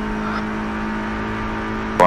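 A Mercedes-AMG A 45 4MATIC in Project Cars 3 on the Hockenheimring GP circuit drones with a steady turbocharged engine tone, with a brief louder burst at the very end and a voice talking over it.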